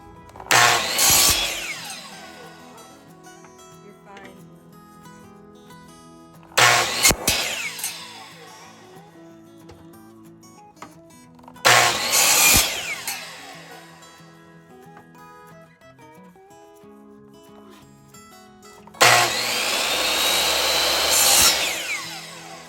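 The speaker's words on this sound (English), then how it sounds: "So I'm just going to take my miter saw and cut these to length." A miter saw cuts wood pieces to length in four separate loud bursts, each a sharp spin-up and cut followed by a quieter pause, the last cut running longer.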